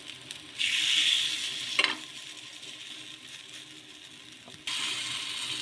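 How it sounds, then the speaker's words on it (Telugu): Food roasts over a medium flame in a pan on a kitchen stove, with a soft steady sizzle broken by scraping and stirring, and a louder hiss returning near the end. "మీడియం ఫ్లేమ్లో కాల్చుకోవాలి"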